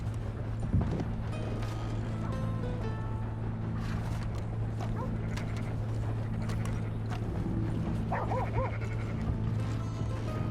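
A dog barks and whimpers in Red Dead Redemption 2, short yips over a steady low hum and game ambience, with horse hooves clopping nearby.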